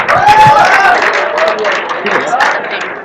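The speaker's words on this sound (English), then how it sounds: "Give a huge round of applause for Raghav Jindal." A college festival audience breaks into loud, dense applause and cheering for a performer, and a voice is heard through the noise.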